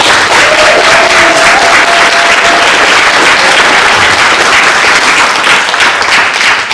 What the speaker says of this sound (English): Give them a round of applause,